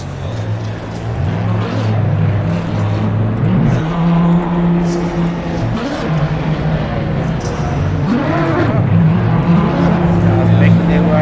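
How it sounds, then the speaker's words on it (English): Lamborghini Super Trofeo race cars in a PC racing game at Laguna Seca: engines droning and revving steadily as the cars roll out onto the track, with someone talking over the continuous engine noise. "Cars making their way out on the track."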